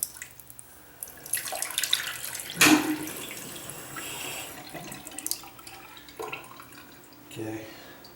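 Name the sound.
water running from bathroom sink faucet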